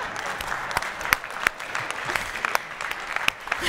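A conference audience claps in a short burst of applause, with dense, fairly close hand claps that continue evenly across the few seconds.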